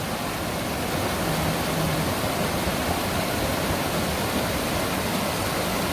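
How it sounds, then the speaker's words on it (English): Waterfalls on a river near Sawmill Reservoir produce a steady, loud, broadband rush of falling water that fills the whole clip without pause, with no voices over it. "it's just been non-stop waterfalls this whole way down."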